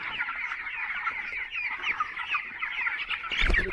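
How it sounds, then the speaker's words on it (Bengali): Poultry farm chickens clucking continuously while being sorted, a dense chorus of close, overlapping clucks and chatter, with a brief louder scuffle near the end and no speech. "তো আমি এখন মুরগিগুলোকে বাছাই করবো"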